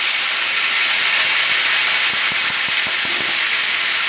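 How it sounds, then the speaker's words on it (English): Beef tenderloin sears in a hot skillet, a loud, continuous hiss filling the whole stretch, with a brief run of soft rhythmic taps near the end. "So if you want to sear the sides of steak or meat, you just lean that meat up against the side of it."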